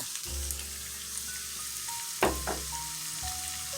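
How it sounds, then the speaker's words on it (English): Minced garlic sizzles in a hot pan with chicken breast pieces, a steady close frying hiss broken by a sharp clatter of a utensil partway through, with no talking. "now you want to add your minced garlic"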